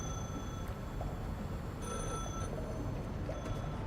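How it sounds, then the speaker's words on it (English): A phone rings in the survival video game The Last Caretaker, with repeated electronic trill bursts over a low, steady rumble of engine or ambient noise. "Is that my phone ringing?"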